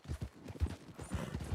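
Thoroughbred horses clip-clop in Red Dead Redemption 2, a quick, irregular run of soft hoof thuds, faint and fairly close, with no talk over them.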